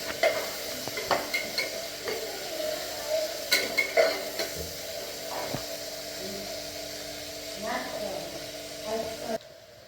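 Sliced onions with salt sautéing in a pan for chicken biryani, a steady close sizzle with repeated scraping stirs of a utensil against the pan; a voice speaks over it at times.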